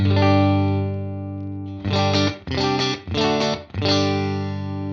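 Sustained electric guitar chord with gritty overdrive from a UAFX Enigmatic 82 Special Overdrive pedal, then four quick strummed stabs before it rings out again, loud and saturated.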